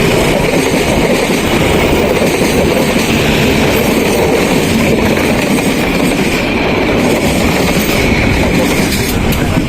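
Ijen Express passenger train rolling past on the railway, a loud, continuous close rumble of wheels and carriages with rhythmic rail clatter and faint high squeal throughout.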